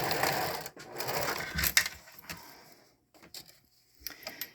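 Sewing machine stitching through recycled denim jeans fabric for a coin purse, several close bursts of rapid mechanical needle whirring separated by brief pauses and light handling clicks.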